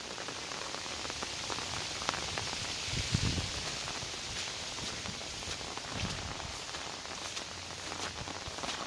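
Steady ordinary rain falls on a garden plot in rural Prachinburi, a dense even patter with a few louder thuds and rustles nearby and no voices.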